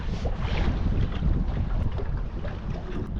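Fishing boat engine running on open water in Sri Lanka, a steady low rumble with wind buffeting the microphone throughout, loud and close with no voices.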